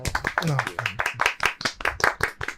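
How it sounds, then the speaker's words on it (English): A small group of tabletop game players claps for their game master, sharp individual claps in a quick, fairly even rhythm, close up, with voices talking over them. "A round of applause to the DM."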